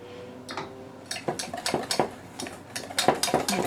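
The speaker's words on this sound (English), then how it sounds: "We're going to start by whisking our dry ingredients together." Flour, baking powder, salt and sugar are whisked together in a bowl, heard as close, rapid rhythmic ticking and scraping strokes that begin softly and grow into a brisk series of clinks.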